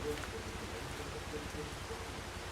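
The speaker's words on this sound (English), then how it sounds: "The rain hath begun, eh?" Steady rain falls in Farming Simulator 25, a dense even hiss with low rumbling texture running continuously through the short stretch, with no voices and no thunder breaking through.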